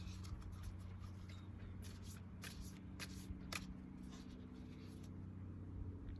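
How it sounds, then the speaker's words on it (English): Oracle cards being shuffled and drawn by hand, a run of soft papery riffles and flicks over a steady low background hum, close and fairly quiet with no talking. "Okay, pulling 2 cards."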